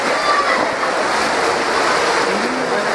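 Urban flood water rushing through a city street and carrying rubbish along, a steady broadband wash of flowing water heard close and loud throughout, with no pause.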